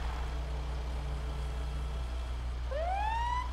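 A police siren in the video game GTA 5 starts up near the end, a rising wail over a steady low engine hum, with no talk over it.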